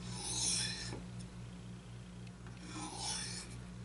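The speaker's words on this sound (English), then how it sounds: "You place your knife at a 90-degree angle and you just pull it down." A knife blade pulled through a handheld field sharpener in two long abrasive strokes, a rasping scrape swelling and fading near the mic over a steady low hum.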